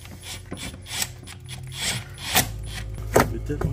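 Repeated ratcheting clicks and metallic tightening noises as a hose strap clamp is tightened on a Kia engine, close up, coming in uneven bursts over a low background hum.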